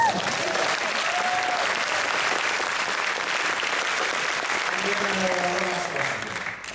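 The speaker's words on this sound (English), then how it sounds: "Let's give her a round of applause." Sustained audience applause fills a post-screening Q&A at a horror film's midnight world premiere, steady and dense throughout, with some background voices near the end as it tapers slightly.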